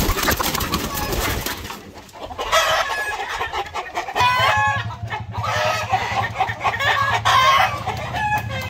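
Upgraded native chickens, laying hens, cluck and squawk close by, several birds calling over one another with a rooster crowing, in a busy, continuous flock chorus.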